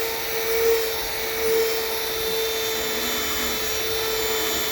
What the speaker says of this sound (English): You want to buff out the lines slowly.